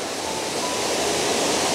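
Horseshoe Falls roars in a dense, constant hiss, close and loud without pause.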